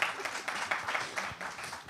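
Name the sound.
audience applause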